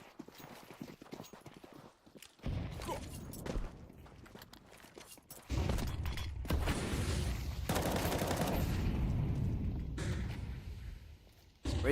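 Counter-Strike match gunfire, with quick shots and rattling bursts over footsteps and game noise, loud and close in short clusters before a steady dense din.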